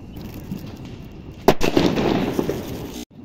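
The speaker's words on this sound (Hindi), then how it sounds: "ग्रेनेड बम को जला के देखते हैं" A grenade bomb firecracker goes off during Diwali fireworks testing, one sharp, loud, close blast above a steady outdoor background hiss, followed by about a second and a half of crackling and fizzing before the sound cuts off.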